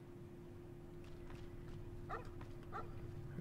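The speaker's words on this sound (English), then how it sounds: "The dog." A dog in the video game Fallout New Vegas barks a few short times at a moderate distance over a low background hum.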